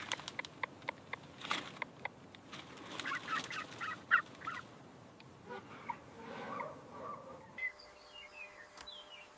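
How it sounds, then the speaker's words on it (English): A greater coucal, a ground cuckoo guarding her newly hatched nest in quiet vegetation, calls amid other bird chirps and calls, with sharp clicks early on, then fades into a quieter stretch near the end. "her deep booming call warning off predators"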